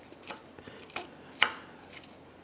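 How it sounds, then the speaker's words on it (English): A kitchen knife chops baby spinach on a cutting board, a few sparse, soft taps, with one sharper, louder knock near the middle, quiet and close. "I want to chop this"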